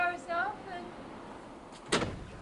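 Door opening in a drama scene, a single short clack following a woman's brief speech, with soft room tone around it.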